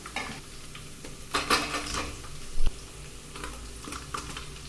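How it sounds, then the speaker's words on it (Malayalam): Onion sautéed in a pan for upma makes a low sizzle under clattering spatula strokes, with a burst of scraping in the middle and a sharp knock against the pan, close and moderately loud. "അടുത്തതായി ഇതിലേക്ക് സവാള ചേർത്ത് കൊടുക്കാം."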